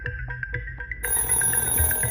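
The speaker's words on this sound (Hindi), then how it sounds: "फोन बज रहा है।" Phone ringing in a mansion, a bright repeating electronic ring with short rhythmic pulses, close and clear, over a faint room background.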